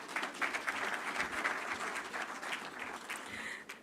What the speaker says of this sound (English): Let's do another round of applause for the comments from Mr. Jose Akili